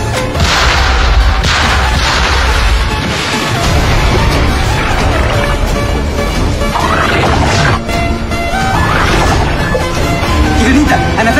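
Naval guns firing in a war film sea battle: dense, continuous heavy booms and crashes that fill the whole clip, loud and mixed with other battle noise.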